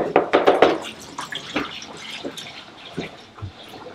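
Hot engine oil from a BMW M4 F82 rushes out of the oil pan in a fast, splashy stream, loudest at the start and then settling into scattered drips and trickles.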